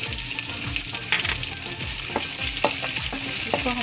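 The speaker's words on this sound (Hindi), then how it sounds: "इसको हम सौते कर लेंगे" Sliced onion sautéing in hot oil in a karahi pan crackles and sizzles steadily, with spoon stirs and scrapes punctuating the close, continuous frying.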